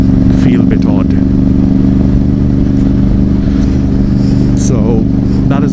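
A Yamaha XSR700 motorcycle rumbles loudly and steadily under way, its exhaust droning through constant wind noise, with a person talking over it.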